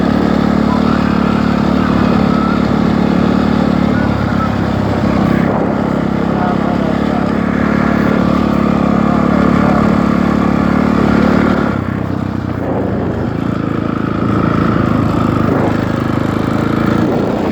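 A dirt bike engine idles and revs steadily on a street for the whole stretch, loud and close, with a short drop and change in tone near the middle and people talking now and then over it.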